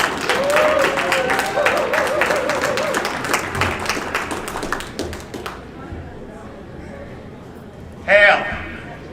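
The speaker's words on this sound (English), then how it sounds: "All right, give Ben a round of applause" An audience applauds a speaker at a Flatoberfest talk, a loud burst of dense clapping that lasts several seconds and then stops abruptly, followed by someone speaking.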